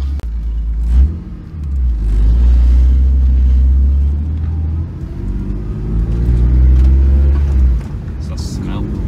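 BMW E46 drift car with a welded differential and solid engine mounts, its engine droning low and loud as it pulls and revs through a run, with people talking over the rumble.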